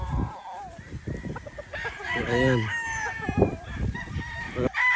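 Chickens cluck and a rooster crows nearby, with a short bit of speech and scattered farmyard clatter around them.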